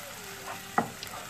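Chicken korma with creamed coconut being stirred in a pan, a quiet, brief scrape with one soft clunk of the utensil against the pan, no voices.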